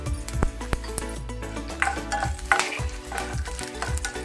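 Spices for tempering sizzle and crackle in hot oil for a radish and peanut chutney, with a utensil stirring and clinking against the pan in a steady rhythm.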